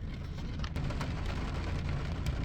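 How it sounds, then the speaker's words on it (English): Steady heavy rain hisses continuously close by with a low, rumbling undertone and no voices. "It's raining pretty good."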